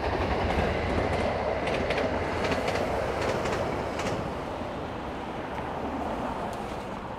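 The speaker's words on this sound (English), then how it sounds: "There's a VIA train whizzing through." A VIA passenger train rushes through Danforth GO station in Toronto, close and loud, a dense roar with faint clattering of wheels on track, easing slightly as it passes.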